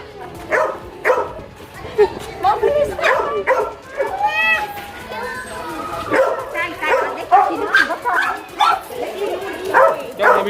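Several small dogs at a pygmy zoo bark and yip in quick, overlapping bursts, loud and close, with some whimpering mixed in while people talk nearby.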